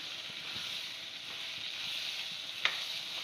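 A potato, brinjal and small shrimp curry cooks in masala in a pan, giving a soft, even sizzle and hiss with one brief clink near the end.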